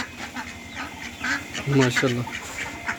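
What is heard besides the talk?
ducks quacking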